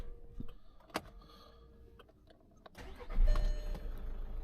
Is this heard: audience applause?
no